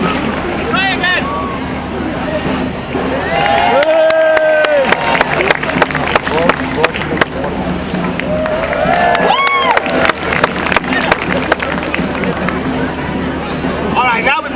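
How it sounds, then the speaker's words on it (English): Theater audience at a live magic and escape show, clapping and cheering in a sustained crowd roar with scattered sharp claps and whoops, a voice talking over it throughout. "This is those clapping and cheering moments we discussed earlier."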